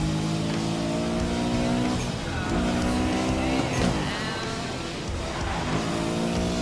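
McLaren sports car driving in the racing game Need for Speed Most Wanted, a steady loud engine drone with revving pitch shifts and brief tire squeal, continuous throughout.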